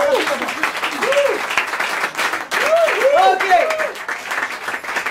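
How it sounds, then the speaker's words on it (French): Audience applause for improv theatre performers at a bar show, a steady crackling clapping that runs throughout while a voice talks over it in the foreground. "On peut les applaudir bien fort."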